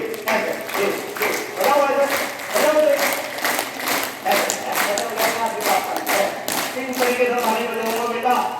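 Hand clapping in a classroom at a girls' inter college, a run of sharp claps in varied rhythms that come in bursts, with voices in between.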